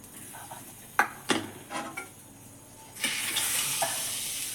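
A few sharp clinks and knocks of a utensil on a pan, then a burst of loud sizzling as chopped onion hits hot oil with fried garlic cloves and keeps crackling.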